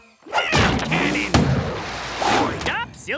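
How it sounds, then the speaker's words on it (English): A loud booming blast bursts out, followed by whooshing, chaotic cartoon sound effects and excited voices over a dense, noisy soundtrack. "Cannon!"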